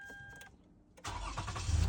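A car engine cranks briefly after a short near-silent pause, then catches and settles into a loud, steady idle with a low rumble that swells slightly at the end, heard up close with no talking.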